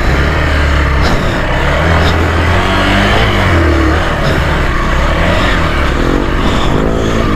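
A Hero enduro motorcycle engine revs loudly and steadily while riding off-road through soft soil and deep ruts, close and continuous with rising and falling throttle.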